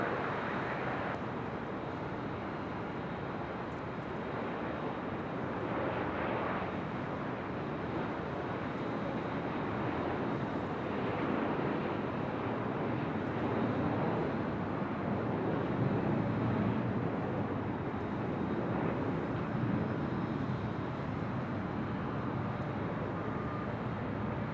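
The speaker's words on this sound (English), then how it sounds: "That was Southwest Airlines Flight 1234 coming in from Las Vegas" A Southwest Airlines jet arriving from Las Vegas lands on runway 24 right at LAX, a long, steady, broad engine roar heard from a high vantage point that swells gently and then holds for over twenty seconds.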